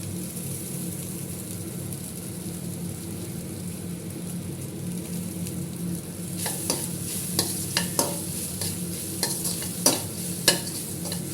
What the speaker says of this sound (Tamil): இந்த வடித்த சாதத்தை இதில் எடுத்து போட்டு அப்படியே கிண்டிடுறான்